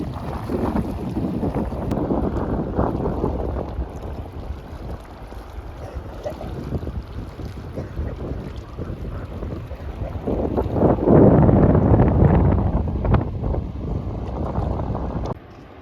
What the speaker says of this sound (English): So I made it to the falls.